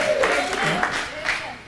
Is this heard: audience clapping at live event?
yes